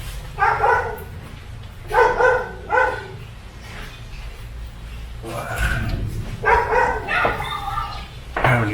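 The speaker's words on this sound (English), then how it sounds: "That's one of our security dogs. Bear with me one second and see what she's kicking off about." A security dog barks outdoors in short bursts, a few sharp barks, a pause, then another cluster of barks, moderately near with faint background noise between.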